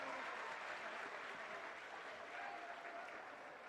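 A crowd at an open-air government benefits event claps warmly and continuously, a dense, even wash of applause that holds steady throughout at moderate distance.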